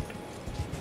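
Hooves of a strange donkey-like steed in the video game Elden Ring clop in a brief, soft, uneven patter, with a couple of heavier thuds toward the end.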